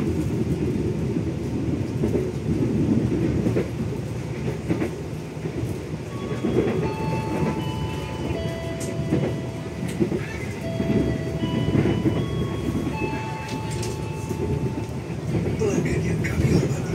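Gaya Baru Malam Selatan passenger train rolling on rails, a steady rumble with faint clickety-clack throughout, heard from inside the carriage while announcements and talk run over it.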